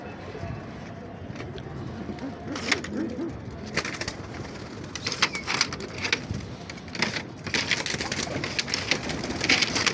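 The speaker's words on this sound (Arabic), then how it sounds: "احنا بنفتح على الحمام." Pigeons coo in a rooftop coop, soft low calls mixed with flutters and scattered sharp bursts, while people talk nearby.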